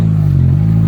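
A car engine idles loud and close through its exhaust, a steady deep droning rumble with no break.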